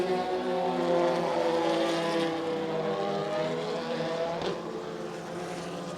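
Formula BOSS race cars at Bishopscourt in Ireland drone steadily on a green flag lap, a continuous layered engine hum at moderate distance with no voices.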